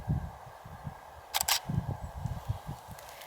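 A single-lens reflex camera shutter fires at 1/50th of a second, two quick crisp mechanical clicks close to the microphone, set against low murmuring handling noise.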